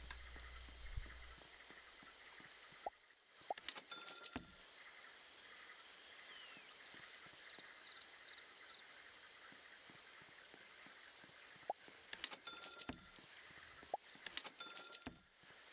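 Steady rain hisses in a Roblox game, a constant even wash of falling drops with a few brief clicks and game sounds breaking through.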